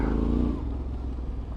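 A Yamaha T7 motorcycle pulling in third gear on a cool canyon road; a steady, loud low engine drone with a deep harmonic hum, heard close throughout.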